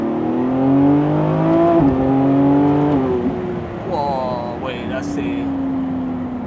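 A 2025 Lamborghini Revuelto V12 accelerates hard in third gear: a loud, deep engine note climbs steadily, drops at a shift, then rises again, heard from inside the car with a voice talking over it.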